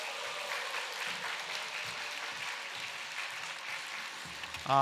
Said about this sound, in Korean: 우리 반전 매력의 소유자 우리 김영순 목사님 나오실 때 우리 박수로 환영하도록 하겠습니다.